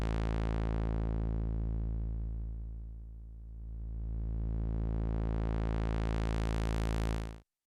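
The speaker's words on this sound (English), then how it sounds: "So let's listen to the one pole low pass filter at first." MicroMonsta synth through a one-pole low-pass filter, a sustained buzzy tone swept downward until muffled and then opened back up to full brightness, steady and alone before cutting off.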